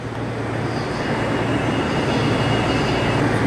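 A newly built train, not yet finished, rolls out of a rail-vehicle factory for testing, giving a loud, steady rumble with a faint high whine held throughout, close by and continuous without pause.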